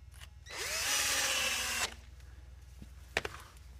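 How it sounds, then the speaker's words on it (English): A power drill drives a screw into a wooden post-and-beam framing member fitted with a T-REX connector, a single rising whir lasting over a second, followed by quieter handling clicks and taps. "We put two screws in here to hold it where we want it"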